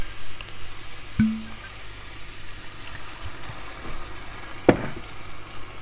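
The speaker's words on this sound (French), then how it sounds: "C'est l'occasion d'aller déglacer le fond du plat pour décoller tous les sucres avec la spatule" Wine poured into a hot pan after frying meatballs, with a spatula scraping up the browned bits; a steady soft sizzle and bubbling runs throughout, with a couple of brief sharper scrapes.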